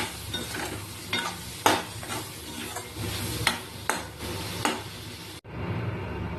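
Potatoes with spices, garlic and onion for a fish curry being stirred and sautéed in a pan: loud continuous sizzling punctuated by repeated spatula scrapes and knocks, then an abrupt cut to a quieter background.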